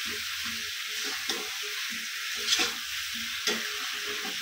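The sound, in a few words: stirring chicken curry with potatoes in frying pan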